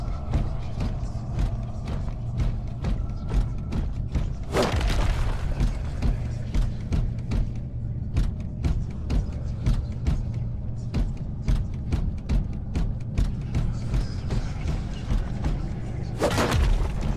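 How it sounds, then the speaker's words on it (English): Walls being smashed apart by melee strikes in the game Space Hulk Deathwing, heavy booming crashes and impacts rising from a steady low mechanical rumble, with a few sharp bursts standing out. "Destroy the walls by hitting them in melee"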